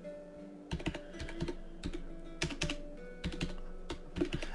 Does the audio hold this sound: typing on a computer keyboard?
yes